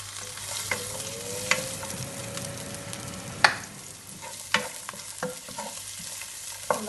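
Diced red onion frying in oil in a pan, with a constant close sizzle broken by sharp utensil scrapes and taps every second or so, no talking.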